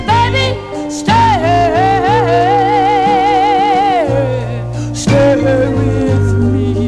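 A 1962 soul record plays from vinyl: a sustained, wavering lead vocal over steady backing instruments, loud and full, with a brief break in the middle.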